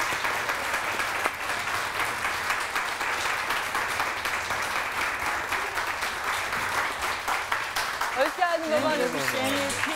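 A studio audience on a Turkish daytime TV talk show applauds steadily to welcome a guest. The clapping stays even and continuous throughout, and a voice speaks over it near the end.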